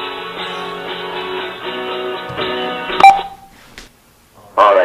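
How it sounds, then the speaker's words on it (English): A phone places a call to an AYL BSPR300 Bluetooth speaker: a steady buzzing ringback tone gives way to a sharp beep, brief quiet, then a loud electronic connection burst, with no one talking. "So I'm going to call my speaker"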